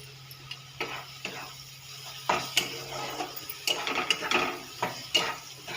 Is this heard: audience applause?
no